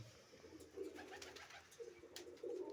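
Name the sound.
pigeons cooing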